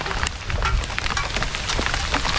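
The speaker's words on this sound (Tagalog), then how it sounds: "Lakas ng ulan eh." Heavy rain pours down steadily, a dense, continuous hiss of drops hitting surfaces close by, loud and unbroken with no voices.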